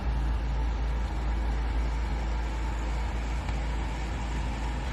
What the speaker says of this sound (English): There's somebody outside doing lawn work, so I'm sorry about the noise.